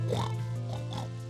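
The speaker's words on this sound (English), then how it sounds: "Pig! Good job!" Pig oinking in a few rhythmic grunting bursts over a steady low hum, moderately close and fairly loud, with no talk.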